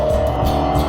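A historic rally car drives past at close range, its engine a loud sustained drone with a steady tonal note and a slight swell, heard alone without talk.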